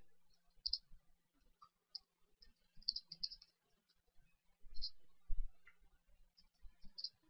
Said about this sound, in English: So suppose I type again